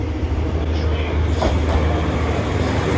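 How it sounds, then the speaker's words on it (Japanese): Yufuin no Mori limited express train pulling into a station platform, a steady low rumbling roar of the rolling train lasting throughout, close and continuous with faint higher hiss. "満員の乗客を乗せて到着した列車は博多駅を9時17分に出発した湯布院の森1号です。"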